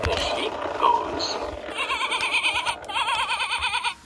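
A pull-string toy sheep gives two wavering, buzzy bleats in the second half, each about a second long and fairly loud, after some earlier background chatter.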